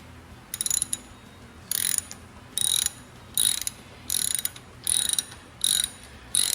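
A hand ratchet wrench clicks in short repeated bursts while loosening bolts on the steering head of a 2021 Harley-Davidson Fat Boy 114 motorcycle, about eight evenly spaced rounds of crisp, close ratcheting with quiet gaps between.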